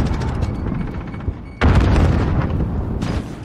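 Grenade blast in Call of Duty Modern Warfare multiplayer: a sudden loud boom partway through, holding as a rumbling roar over ongoing game noise and scattered shots, with a second burst near the end.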